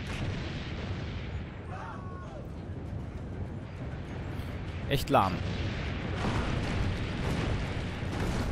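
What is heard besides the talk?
cannon firing in Assassin's Creed Brotherhood video game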